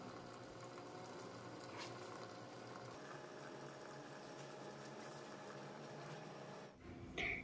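A steady, quiet bubbling and hissing of boiling water poured over herbs continues throughout, with a soft clink near the end.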